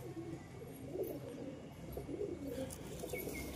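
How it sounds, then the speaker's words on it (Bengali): A male pigeon coos softly in low, rolling bursts, faint and somewhat distant against quiet background noise, with a few faint chirps near the end. "এই হচ্ছে একটি কবুতর"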